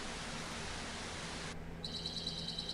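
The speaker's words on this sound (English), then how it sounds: "Birds. Sounds like a jungle." Jungle ambience from the game Payday 2: a steady hiss of background noise, then a thin, repeating high bird chirping that enters about halfway through and continues, faint and alone.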